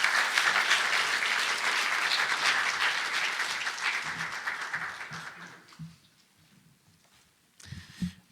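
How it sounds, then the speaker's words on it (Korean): A church congregation claps loudly and steadily to welcome a pastor onto the stage, then the applause thins and fades into near quiet, with a few brief thumps at the end. "우리 나오실 때 힘차게 박수로 한번 맞아주시면 감사하겠습니다."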